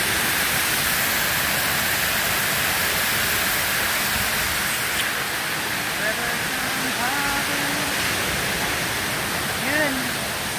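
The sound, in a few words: waterfall at Puerto Princesa, Palawan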